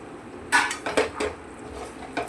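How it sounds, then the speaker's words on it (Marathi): Spoon stirring peas into spiced mutton mince in a pan, giving a few sharp metallic scrapes and clinks spaced irregularly, close and moderately loud with no talk. "मटर आणि खिमा व्यवस्थित आपल्याला मिक्स करून घ्यायचे आहे।"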